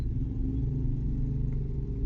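Cars and other vehicles rumbling past close by on a crowded road to a Monday market, a steady low engine drone with clattering and revving throughout.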